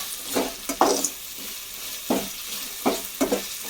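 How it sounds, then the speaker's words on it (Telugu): Tomato and tamarind chutney sizzles in a pan as it is stirred, with several distinct scraping strokes at an uneven rhythm over a soft steady frying hiss, close and moderately loud, with no talking. "ఇలా మంచిగా కాసేపు తిప్పుకొని టమోటాస్ చింతపండు టమోటాస్ బాగా కలిసిపోయేలాగా"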